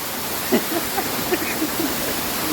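Water crashing down with force at Devarakona waterfall in Anantapur district, a steady, dense rushing roar that fills the whole clip at moderate loudness, with a few faint chirps poking through.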